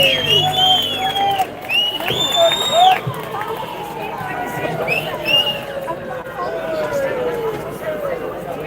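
A street rally crowd in Manchester cheering and clapping, a broad wash of applause with whistles and shouts, while voices carry over the noise throughout.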